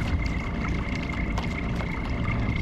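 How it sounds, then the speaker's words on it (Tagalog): Fishing kayak trolling under a small motor, a continuous close churning of water and engine drone with a faint steady tonal whine, no talking. "trolling na tayo gamit ng ating motor"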